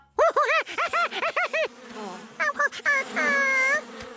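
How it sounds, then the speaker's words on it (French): Cartoon bees collecting nectar buzz in short, wavering bursts that rise and fall in pitch, close and fairly loud, ending in a longer sustained drone. "Les abeilles récoltent le nectar."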